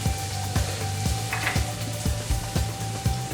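Onion sizzling in a pot with a steady close hiss and fry, punctuated by regular rhythmic knocks of a utensil stirring against the pot.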